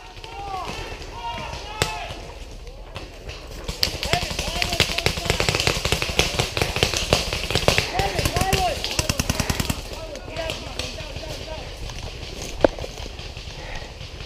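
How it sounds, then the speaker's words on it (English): Gunfire in a team game of capturing bases: repeated sharp shots in scattered bursts, some in quick rapid strings, near and fairly loud, heard under the overlapping voices of players talking. "We got shots coming fired!"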